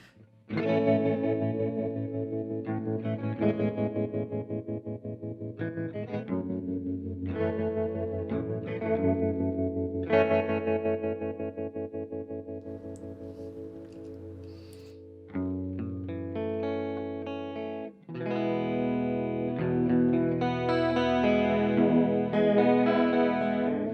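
An electric guitar runs through an OBNE Expression Ramper tremolo pedal, playing a steady stream of strummed chords and picked notes with a pulsing, warbling modulation, loud and close with no voices over it.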